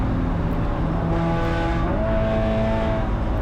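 A Spec Miata race car on track, its engine droning loud and steady from inside the cockpit as it downshifts to third and accelerates, pitch climbing gradually.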